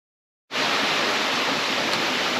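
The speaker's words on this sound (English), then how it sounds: "These are the waterfalls." The Ocreza waterfalls roar in a dense, even wash of falling water that cuts in abruptly and holds steady and loud, with no one speaking.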